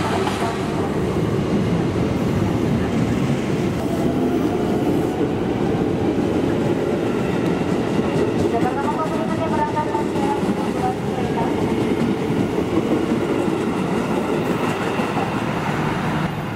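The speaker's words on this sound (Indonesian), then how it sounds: "Jalur 2 kereta api akan melintas langsung." A train passes straight through Gondangdia station on track 2 without stopping, a loud, steady rumble with wheel clatter on the rails that runs the whole time, close by.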